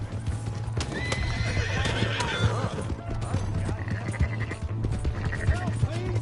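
Busy Red Dead Redemption 2 game soundscape with horse hooves clip-clopping, a whinny, and scattered shouts and effects over a steady low hum.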